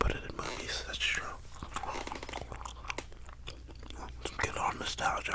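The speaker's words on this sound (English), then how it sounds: "Hopefully, you guys chew some gum with me." Bubble gum chewed close to the mic in whispered ASMR, with steady wet smacks, soft crunches and clicks running throughout, mixed with quiet whispering.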